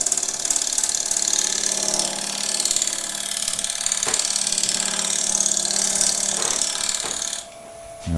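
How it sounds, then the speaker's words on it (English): A wooden table lamp spins on a wood lathe while a scraper works it, making a continuous loud rasping whir with a fast ticking pulse, then cutting off near the end as the tool lifts. "We're going to carry on scraping first for a little bit."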